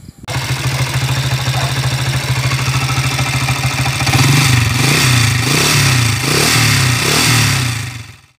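A motorcycle engine with a worn, unsealed bearing runs steadily and close up, a rapid regular throb with mechanical clatter, then revs in repeated swells toward the end.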